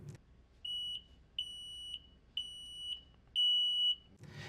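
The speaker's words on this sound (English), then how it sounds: "the upper electrodes touch and sounds an alarm." A shrill electronic gel timer alarm, testing polyurethane gel time, beeps four times in a steady rhythm, each tone long and piercing, with short gaps between.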